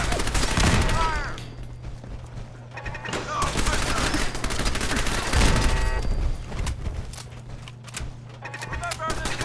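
Sustained gunfire from automated turrets in the video game Fallout 4, rapid overlapping bursts and explosive cracks running through the whole stretch, loud and dense, with voices shouting over the battle.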